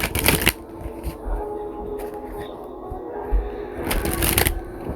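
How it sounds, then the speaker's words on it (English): A deck of cards is shuffled in quick riffling bursts: one at the start, a few light flicks in the middle, and another burst near the end, all close and crisp. "So we'll do a quick shuffle."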